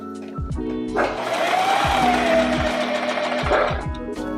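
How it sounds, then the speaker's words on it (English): Domestic sewing machine running steadily for about three seconds in a kitchen setting, a continuous whirring hum that starts and stops abruptly, with speech-like sounds around it. "Threading the sewing machine."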